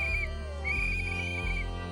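Shrill whistles blown by protesters during a street raid by federal agents, one sustained piercing tone breaking briefly then resuming, over a low background rumble.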